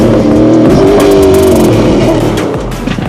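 A rally race vehicle in the Parys 400 off-road race roars loudly and close, its engine note holding steady then fading slightly as it passes, with no voices over it.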